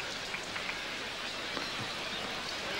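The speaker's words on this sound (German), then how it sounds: "werden die Schirme aufgespannt. Eine Regenunterbrechung wäre jetzt auch nicht nach dem Geschmack von Boris Becker" Steady rain pours down at an outdoor professional tennis match, a dense, even hiss of drops hitting surfaces with no break and no voices.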